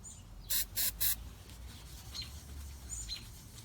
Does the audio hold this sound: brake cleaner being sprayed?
yes